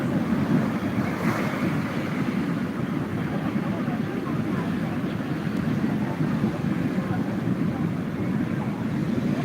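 Ocean surf rumbles in a continuous, steady wash at Puri beach at night, with wind buffeting the microphone and no clear individual wave breaks.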